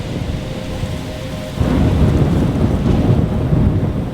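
Thunderstorm with steady heavy rain in the video game Life is Strange, a low rumbling roar that swells louder partway through and continues without voices.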